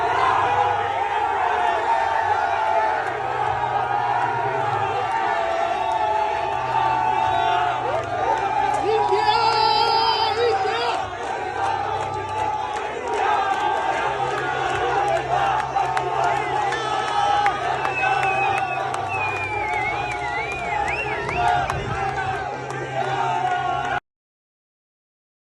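A packed crowd at the MCG roars and cheers during an India vs Pakistan cricket match, a sustained loud wall of shouting and whooping for over twenty seconds before cutting off abruptly.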